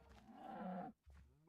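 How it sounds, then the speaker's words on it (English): Cows moo in a Minecraft farm, one drawn-out low moo followed after a brief gap by a shorter second call, fairly quiet and with no talking. "Now all the cows are here."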